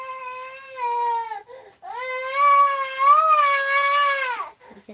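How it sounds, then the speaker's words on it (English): A young boy cries nearby in loud, wavering wails with a brief break between sobs, heard alone. "You can hear my boy crying."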